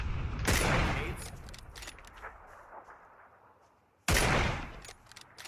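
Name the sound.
gunfire hitting pan armor in PUBG video game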